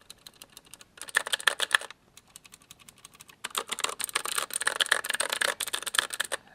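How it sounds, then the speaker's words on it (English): Fast typing on a Ducky mechanical keyboard with Cherry blue switches, crisp and close. Bursts of sharp clicky keystrokes come in a brief flurry, pause, then return as a longer dense stretch with no voice. "The Ducky, this is using a cherry switch, so it's a blue, and it does have a click"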